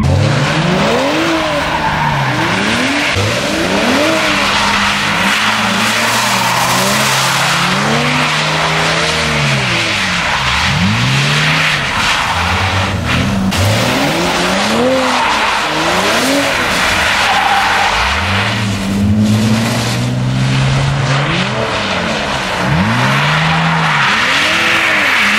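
BMW Z4 drifting around an open lot, with loud, sustained tire squeal swooping up and down in repeated arcs over a revving engine, close and continuous throughout.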